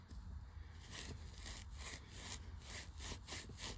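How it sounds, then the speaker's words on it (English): A metal part of a Shakespeare 1850 spinning reel is scrubbed with a Scotch-Brite pad, giving a quiet, rhythmic back-and-forth rasping of about a dozen quick strokes, close by. "So let me take a Scotch-Brite to it."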